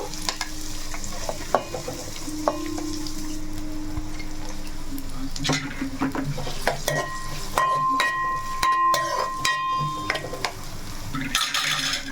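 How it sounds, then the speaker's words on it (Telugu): Onions frying in hot oil for a home-style chicken curry sizzle steadily while a spoon scrapes and stirs through the pan, with occasional metallic clinks and a brief tonal beep partway through. "ఆయిల్ కొంచెం మనకి వేడెక్కాలి ఆనియన్స్ వేసేసుకుందాము"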